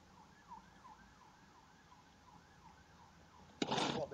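A fire engine siren wails in a street some distance off, its rising and falling cycles repeating faintly under traffic noise, until a sudden loud close rush cuts in at the end.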